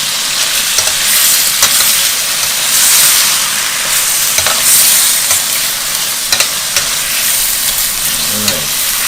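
Seasoned frozen vegetables fry in a pan while being stirred for a casserole. A loud, steady sizzle and hiss carries on throughout, broken by scraping stir strokes.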